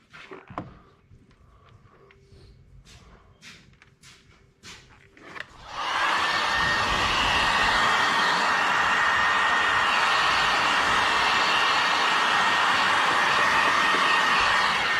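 A heat gun warms the top edge of window tint on a truck side window, starting partway in as a steady loud blowing roar that continues to the end, after quieter shop sounds and a few faint taps.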